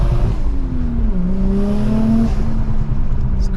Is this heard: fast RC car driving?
yes